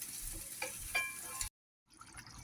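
Hilsa fish fries over medium heat, giving a soft, steady sizzle with a few brief crackles before it cuts off and then returns faintly.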